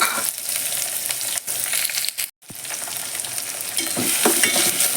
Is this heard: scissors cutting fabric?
no